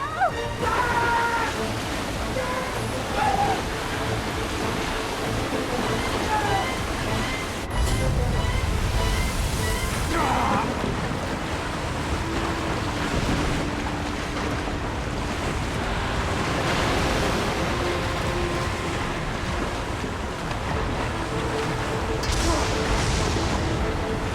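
Rushing flood water fills a disaster-film scene, a loud continuous roar of surging water and wind-like noise with crashing surges, while people shout over it.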